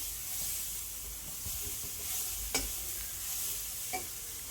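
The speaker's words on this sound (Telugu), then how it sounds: "ఇప్పుడు అదే పాన్లో కొబ్బరి కూడా వేసేసుకుని ఫ్రై చేసేసుకోవాలి" Grated coconut fries in a pan and is stirred, giving a soft continuous sizzle with scraping strokes and a couple of sharp clinks of the spatula against the pan.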